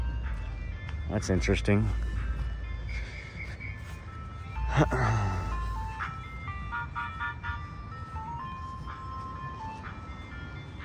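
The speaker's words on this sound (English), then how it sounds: "Already got an ice cream truck out here, huh?" An ice cream truck plays its tinkling jingle outdoors, a steady melody over road rumble, with a person talking briefly nearby.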